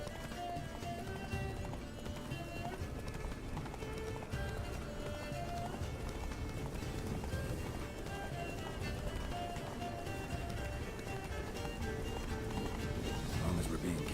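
A horse gallops in The Witcher 3 video game, with continuous rhythmic clip-clop hoofbeats under steady game ambience and faint voices.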